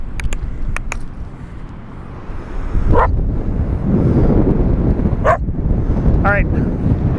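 A dog on an Oregon coast beach gives a few separate barks at a moderate distance, spaced several seconds apart, over steady wind and surf noise.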